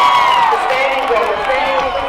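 A large crowd at a relay race in New South Wales cheers and shouts loudly, a sustained roar of many voices with scattered whoops.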